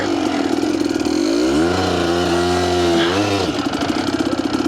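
A 1992 Kawasaki KDX200 two-stroke dirt bike has its throttle blipped while the brake is held, so the engine note climbs and falls in pitch through a sustained, close, buzzy revving over steady wind noise, with no talking.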